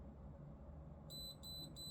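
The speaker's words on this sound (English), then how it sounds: "Wait for 3 short beeps or 5 consecutive times to complete the shutdown" A series of short, high electronic beeps from an Acetech Brighter C airsoft tracer unit powering off, sounding in a quick rhythm over a low background hum.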